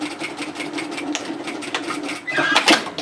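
Sewing machine stitching a second row near the fold of a dress sleeve, a steady rapid needle chatter close by, quickening near the end.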